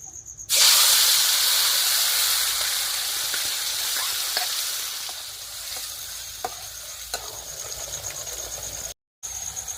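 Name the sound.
ground masala paste sizzling in hot oil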